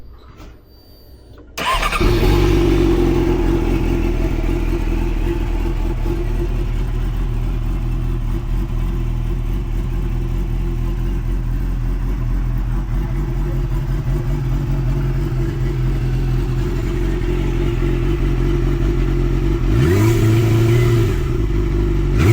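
A Japanese motorcycle engine starts up and idles steadily with a low rumbling drone, close by, with a brief rev near the end.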